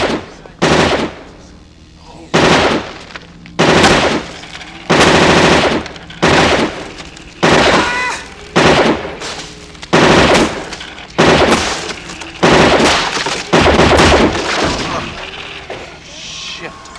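Movie gunfire from an Auto 9 pistol comes in loud, close bursts of rapid shots separated by short pauses, repeating across the whole stretch with echoing booms.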